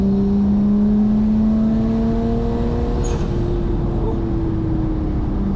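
A Nissan Skyline R34 GT-T engine drones steadily with a rising whine, and a brief high hiss cuts through midway like a turbo blow-off release.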